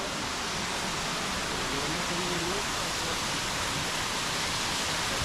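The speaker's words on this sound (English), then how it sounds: "I think we found the little waterfall." A small waterfall in the El Yunque rainforest of Puerto Rico, a steady, broad rushing hiss of falling water that stays loud and unchanging, with a faint voice briefly audible beneath it.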